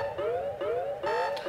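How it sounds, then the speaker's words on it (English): Alarm in the video game Payday 2, a looping rising electronic siren wail repeating about every half second, loud and steady with no talk. "We're disabling the alarm."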